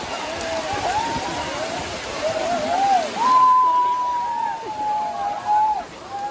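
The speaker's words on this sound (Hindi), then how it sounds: "गाइस अभी बहुत ज़्यादा बारिश आ गई है, मौसम एकदम फर्स्ट क्लास बन गया है" Heavy rain falling on a day in Bogor, Indonesia, a steady broadband wash heard throughout, with someone talking over it.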